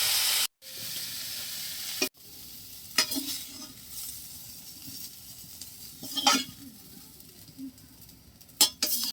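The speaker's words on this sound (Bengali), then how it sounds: "ফুলকপি ভাজি হয়ে গেছে, নামাই নেব।" Cauliflower frying in a pan, a low steady sizzle broken by scraping stirs and light clinks of a utensil against the pan, close and moderate in level, with no talking.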